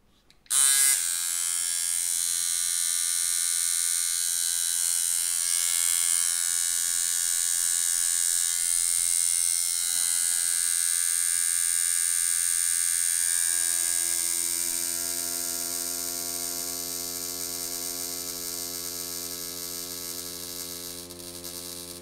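Pope Irons T3X tattoo machine running with a 14-round liner gives a steady, close electric buzz with a high whine that holds for over twenty seconds, easing slightly in pitch and level toward the end.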